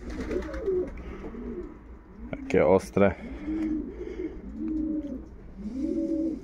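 Repeated low, throaty coos from a long-distance racing pigeon roll on steadily close by, with a man's brief speech cutting in partway through.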